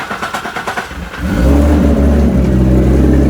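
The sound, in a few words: Infiniti G35 big-turbo car engine running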